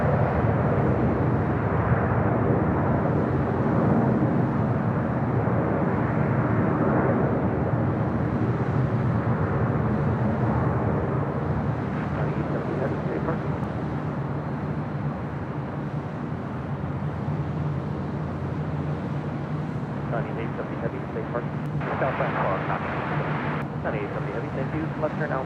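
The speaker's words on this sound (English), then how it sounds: "Up next here on the south side, the Air Tahiti Nui Dreamliner heading up to the north side for a flight to Vegas." An Air Tahiti Nui Boeing 787 Dreamliner taxis at LAX from the south side toward the north side, its engines making a steady, loud jet roar throughout while a voice talks over it.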